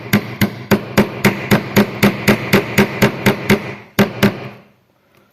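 A mallet strikes a wood chisel cutting a mortise for a marking gauge arm, a fast series of about fifteen sharp, close knocks in a steady rhythm, then a pause and two final blows.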